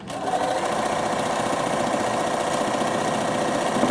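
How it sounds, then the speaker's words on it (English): A sewing machine runs a zigzag stitch on fabric close by, a fast continuous mechanical whir and chatter that holds steady for the whole stretch with no voices. "So I'm just going to use zigzag there and just make that a little bit stronger, seeing as I pulled it."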